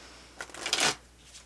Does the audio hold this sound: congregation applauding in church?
no